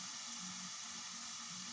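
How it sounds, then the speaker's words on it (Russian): Beef chunks and onion sizzle in a hot pan while being fried for goulash, a steady close hiss that runs unbroken with a soft low rumble underneath. "Да, сейчас обжарим мы наше мясо. Добавим мы лучок,"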